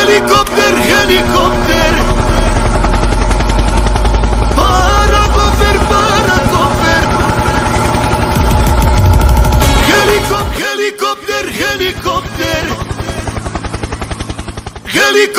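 Helicopter rotor drone mixed with rapid gunfire bursts in a Snake.io mobile game, loud and dense throughout, with music-like layers and a sudden drop in low rumble near the end.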